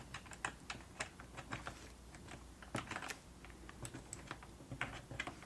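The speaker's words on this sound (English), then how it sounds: "type in the number" A number is keyed in on a computer keyboard at a library customer service desk, with soft, close, rapid clicks in irregular clusters and a near-silent background.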